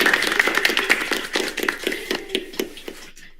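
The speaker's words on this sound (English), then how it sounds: "Clap, clap, clap, clap, clap" A single person clapping hands in a quick series of about a dozen sharp claps, fairly close and clear, slowing and fading at the end.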